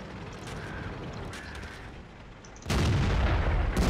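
A T-44-85 Soviet premium medium tank fires its main gun in World of Tanks, a loud sudden blast that cuts in abruptly near the end over steady engine rumble, following a few faint mechanical clicks.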